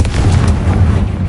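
A loud, sustained magical blast from a Confringo spell in Hogwarts Legacy, a deep rumbling boom filling the short moment with dense low roar and crackle.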